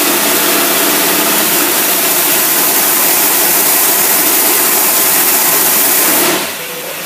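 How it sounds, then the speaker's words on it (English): A carbureted car engine with a flat tire roars loudly at the rev limiter, sustained, steady and strained, shaking hard, then cutting off abruptly near the end. "that engine was shaking real bad, which that means we took it up to the rev limit"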